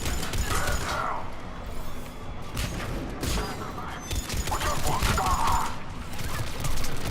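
Sustained, dense gunfire and mechanical clatter from a Mass Effect 3 firefight run continuously and loud, with a voice briefly audible underneath.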